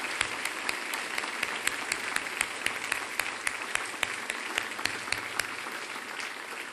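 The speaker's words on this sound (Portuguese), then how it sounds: "Quero dar um aplauso ao Senhor." A church congregation applauding during a service, a steady, moderately distant roar of many hands with a few crisp claps standing out, evenly sustained and fairly quiet.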